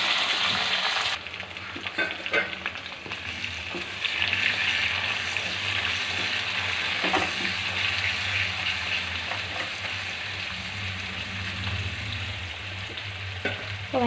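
Mustard seeds and curry leaves frying in hot oil for a spicy tamarind curry, a loud steady sizzle and crackle that swells as the leaves go in, with scattered light pops and stirring scrapes, close up.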